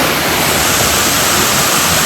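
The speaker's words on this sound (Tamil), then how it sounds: "அருவி ஊற்று" Waterfall at Lac Noir in Fribourg, Switzerland, roaring as a loud, dense, unbroken wash of falling water heard close up, with no voices over it.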